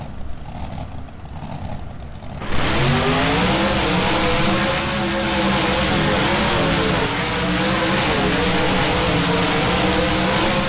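Monster trucks USA 1 and National Treasure race in the BeamNG video game; after a quieter idle, engines roar up loudly at about two and a half seconds and keep up a sustained, wavering revving drone, close and continuous.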